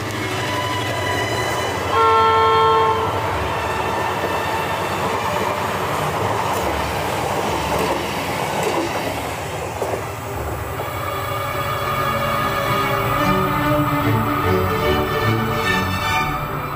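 A train on the Nordland Railway in Norway rolls along with steady rumbling wheels, a brief horn blast near the start, and squealing and clicking from the rails, close and loud throughout.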